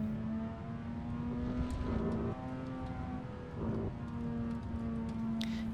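A racing simulator car engine idles and holds a steady hum in first gear, with slight revving swells, faint and continuous with no talk over it.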